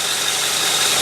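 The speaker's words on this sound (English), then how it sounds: "Overall, just better sounding engine." Ford Galaxie V8 fitted with a Holley carburetor idling steadily, a continuous broadband engine hum with no break.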